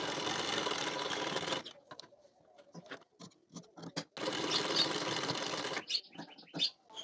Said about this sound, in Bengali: এই দিকেও সেলাই দিয়ে নিতে হবে।